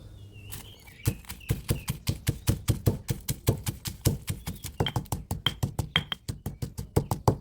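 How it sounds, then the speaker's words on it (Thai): Dried red chilies and Thai garlic pounded in a mortar with a pestle, a steady run of sharp, close thuds repeating roughly four to five times a second for several seconds, with no voices. "ผัดกะเพราก็ต้องตามพริกกระเทียมก่อนครับ"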